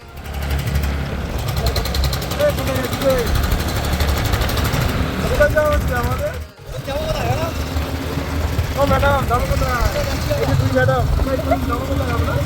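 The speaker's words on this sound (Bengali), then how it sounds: "আমাদের এই প্রথম স্কুটি নিয়ে এত দূরের পথ পাড়ি দেওয়া হচ্ছে" A scooter on a long-distance road trip with friends, heading to Bakkhali, gives a steady wind-buffeted engine rumble at speed that runs the whole way through, while voices talk over it.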